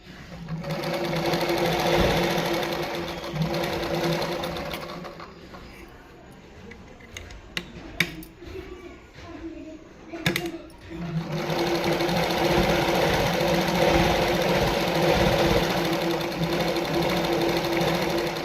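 A sewing machine runs loudly and steadily while stitching a fall onto a saree cloth, pausing midway for a stretch of clicks and adjustments before the fast mechanical whirr resumes.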